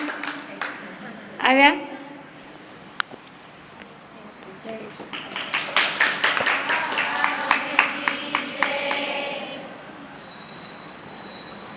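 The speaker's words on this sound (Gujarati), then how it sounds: "તાળીઓથી વધાવીએ" An audience at a religious satsang gathering breaks into a run of clapping to welcome a guest, following a voice talking, the applause moderately loud and lasting several seconds before fading.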